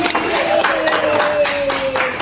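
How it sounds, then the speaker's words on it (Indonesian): Students in a classroom clap for themselves, a burst of many hands clapping at close range, mixed with voices and a tonal sound running underneath. "Tepuk tangan untuk diri sendiri."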